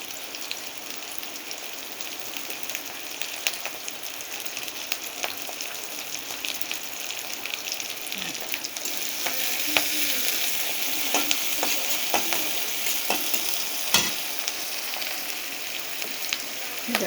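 Prawns fry in a pan with a constant crackling sizzle and scattered sharp pops, moderately close, and the sizzle grows slightly busier partway through.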